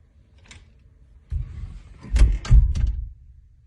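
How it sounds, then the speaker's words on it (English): A closet door is pushed shut with a soft sliding rumble, then two or three dull wooden thuds and knocks as it settles closed, close by with no voices. "I'm going to close the closet for a better audio quality"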